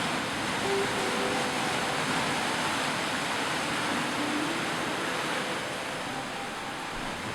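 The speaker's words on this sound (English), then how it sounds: "it was so much fun to watch all of the waves hit the edge of the rocks" Steady roar of ocean surf crashing against volcanic rocks at Cape Perpetua on the Oregon coast, a continuous wash of broadband noise with no pauses or voices.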